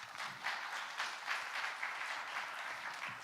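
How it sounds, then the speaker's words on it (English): An audience at the closing ceremony of the World Bio Summit 2025 gives a dense, continuous round of applause for a speaker; it is fairly quiet and distant, with no voices over it. "Please join me in welcoming him with a big round of applause."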